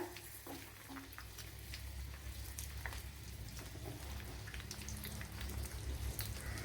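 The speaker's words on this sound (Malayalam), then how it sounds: "ഞാൻ വളരെ കുറച്ച് ഓയിലിലാണ് പൊരി ഇത് ഫ്രൈ ചെയ്തെടുക്കണത്" Pounded chicken pieces frying in a small amount of oil, giving a steady, quiet, even sizzle with faint crackles and pops throughout.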